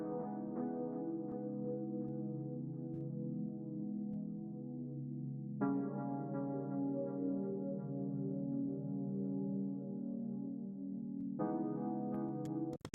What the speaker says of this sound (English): Really weird jazzy chords.